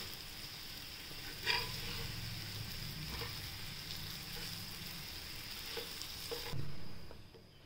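Slices of raw banana frying in a pan for crispy chips make a steady, even sizzle with occasional soft scrapes and a bump, then drop quieter near the end.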